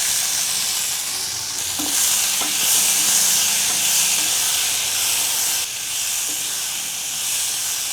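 Vegetables with salt and turmeric sizzle steadily in a hot pan while a spoon stirs them, with a few scraping knocks near the middle, all at close range and no talking.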